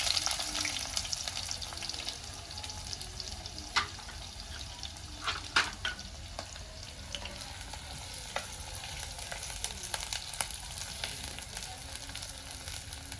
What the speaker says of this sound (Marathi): तेल गरम झालंय कडकडीत। आता आपण याच्यामध्ये कांदा सोडूया।